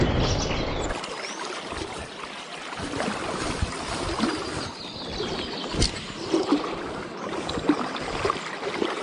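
A boat moving across water in a Bengali animated horror story, with a continuous wash of lapping, splashing water and soft paddling strokes, fairly close and sustained throughout.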